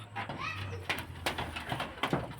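Pigeons coo softly close by, low burbling calls mixed with quick rustles and taps of wings or feet in a quiet setting, with someone speaking intermittently.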